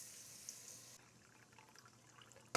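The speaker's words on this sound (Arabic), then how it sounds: "هحط 6 كوبايات ميه" Water being poured into a cooking pot while making koshari: a steady, splashy hiss of running water fills the first second, then quieter trickles and drips follow, ending with a sharp clink of the vessel.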